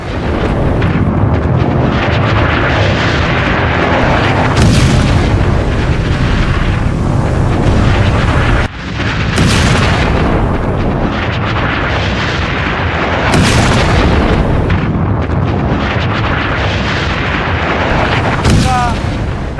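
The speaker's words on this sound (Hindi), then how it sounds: "जहाज जैसे ही वहां तक पहुंचते हैं और धमाके हो जाते हैं, ठीक इस तरह से करके धमाके होते हैं।" Powerful explosions from sea mines striking ships, heavy rumbling blasts that keep roaring, with sharp cracks recurring every few seconds and a brief break midway.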